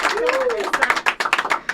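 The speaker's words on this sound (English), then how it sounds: "one more round of applause there for Vanessa" Sparse, uneven hand clapping from a small audience at a live music awards preview show, a scattering of sharp claps rising after a quieter start and fading out.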